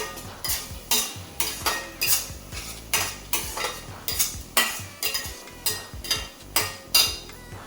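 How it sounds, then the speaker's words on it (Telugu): A spoon scrapes and clinks against a pan in a quick, regular rhythm, about two strokes a second, as turmeric is worked into masala paste for a gorakalu curry. The stirring is close and clear, with no talk. "ఒక స్పూన్ పసుపు వేద్దాము పసుపు కూడా ఈ పేస్ట్లో బాగా పట్టేలాగా కలుపుకుందాము"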